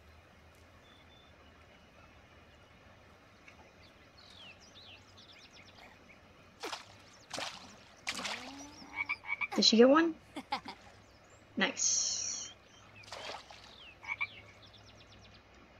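Frogs croak in a quiet room around a pet tank, the short calls scattered among bursts of nearby speech and handling noise.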